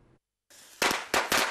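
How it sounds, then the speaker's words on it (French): Ivorian firecrackers known as Bangé go off in sharp, loud bangs, three close explosive cracks after a brief silence, with no talk over them. "Une détonation caractéristique, celle du pétard, appelé communément en Côte d'Ivoire Bangé."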